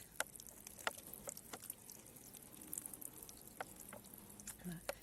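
Water from a 1.5-litre bottle or watering can rains onto a home karst model, producing a faint, steady patter of small drops and trickles with scattered sharp ticks.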